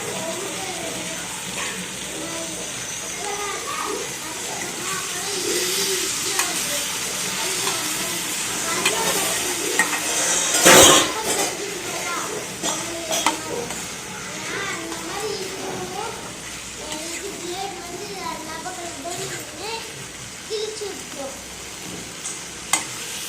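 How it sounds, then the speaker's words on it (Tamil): Tomatoes sautéing in a pan for radish chutney, a steady sizzle with stirring scrapes running throughout, one sharper burst of frying near the middle, under a constant hiss with faint background voices. "தக்காளி நல்லா வதங்கணுங்க, அது வதங்கினாதான் கொஞ்சம் நல்லாயிருக்கும்."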